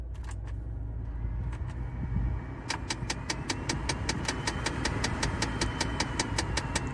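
A flooded Cadillac Deville Vintage Edition with a Northstar engine idles with a low, steady rumble. Partway through, a rapid, evenly spaced ticking starts and continues over the idle.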